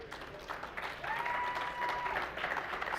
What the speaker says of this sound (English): They deserve a round of applause. Give it up for these guys.